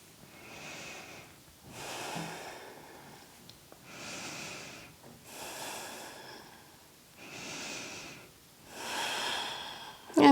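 Deep, slow breaths during a yoga back bend, with rhythmic inhales and exhales rising and falling about three times, close and soft, some with a slight nasal snort.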